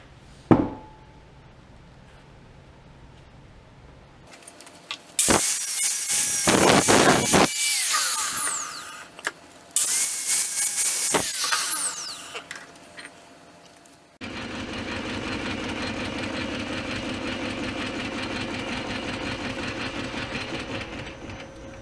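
A metal lathe turns a spider gear for a Cub Cadet dozer build, cutting in loud whining, screeching bursts that stop and start, then settles into a steady humming run near the end, with no talking.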